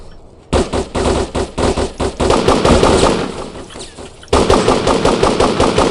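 Loud, rapid automatic gunfire from the video game Devastation, dense bursts rattling almost continuously with a brief break before another sustained volley, close and dominant with no talking.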